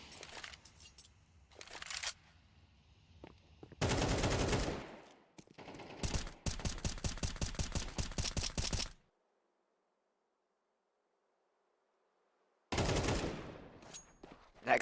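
Gunfire in a professional Counter-Strike match: bursts of rapid automatic shots and single cracks. They come in dense clusters, then stop for a few seconds of silence before another loud burst.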